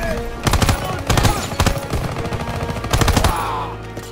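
Automatic gunfire from a Call of Duty: WWII firefight, loud close bursts of rapid shots in several clusters with echoing decay between them.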